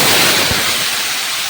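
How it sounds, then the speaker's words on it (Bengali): Water lily stems tipped into hot oil seasoned with black cumin and dried chilli, giving a loud, dense, steady sizzle and crackle close by, with no talk. "চলো এবারে শাপলাটা দিয়ে দেবো"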